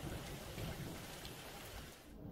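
Steady rain falls as a dense, continuous hiss with a low rumble underneath, like a thunderstorm downpour. No voices are heard.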